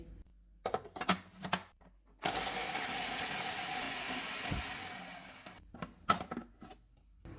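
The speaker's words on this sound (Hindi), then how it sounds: "चॉपर में प्याज डालेंगे और इनको चॉप करेंगे।" An electric chopper whirs steadily for about three seconds while chopping onions for kafta kabab, preceded and followed by short knocks and clatters of handling the appliance in a kitchen.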